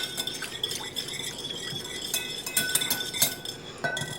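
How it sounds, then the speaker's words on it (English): Olive oil is whisked with lemon juice in a bowl, giving rapid light clinks and scraping taps of a whisk against the bowl, close and irregular, in bursts without speech. "Now we are going to whisk our 1/4 cup of olive oil in with our lemon juice"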